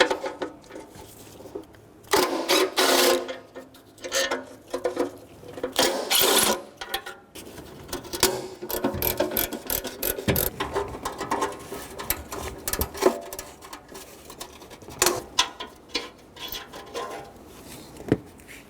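Repeated metallic clicking and ratcheting bursts from a 12mm socket wrench undoing exhaust manifold shield bolts on a Toyota, close by, with clanks and brief pauses between turns.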